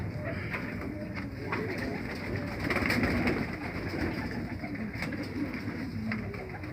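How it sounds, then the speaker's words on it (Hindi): Female Feeke Baajre pigeons cooing softly amid a steady, busy background hum, with low burbling calls repeating throughout. "इस कबूतर की मादा, इसे मुलाजा फरमाइए इसकी आँख।"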